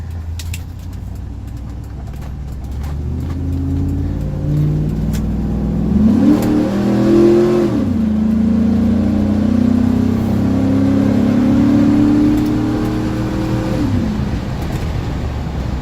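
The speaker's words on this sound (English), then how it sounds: "The engine runs very well." A small car's engine revs and pulls as it accelerates on the road, pitch climbing through gears then holding steady, loud and close with a constant rumble of road noise and no talk.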